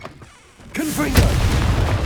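A sudden booming blast from the Confringo explosion spell in Hogwarts Legacy fires after a quiet moment, loud and close, followed by a rumbling tail.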